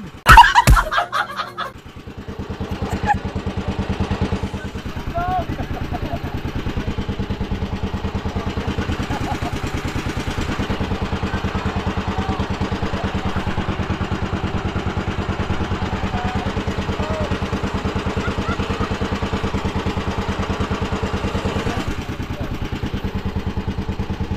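A boat engine on a fishing trip idles with a steady mid-pitched throb and rattling clatter after a sharp burst at the start, running on continuously and fairly loud with no clear shutdown.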